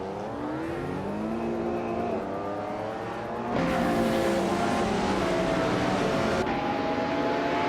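Several race cars in a racing video game, led by a 1995 Ferrari F50 at Phillip Island, roar off the start line, engines revving and climbing in pitch, the sound swelling louder midway as the pack pulls away, with no talk.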